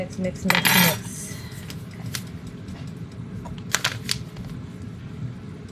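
A utensil scrapes and clinks against a bowl while homemade dumpling filling is mixed, with a few louder clattering knocks early and later, over a steady low background rumble.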